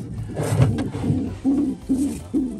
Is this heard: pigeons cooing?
yes